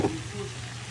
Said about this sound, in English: Fried catfish that going in right there.